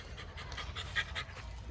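A puppy pants in quick, steady breaths, close by, over a low rumbling background.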